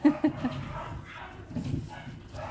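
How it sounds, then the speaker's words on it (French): Several dogs bark in quick bursts at the start, followed by quieter yips and whimpers mixed with muffled background noise. "Je sais pas si vous entendez mes chiens."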